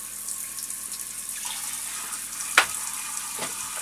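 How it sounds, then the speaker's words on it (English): Water runs steadily from a tap while a glass jar is washed with a sponge and white vinegar, with a couple of brief knocks and squeaks of the jar against the sink. "we'll just give this a nice little wash with the vinegar, making sure to wash every part of the jar"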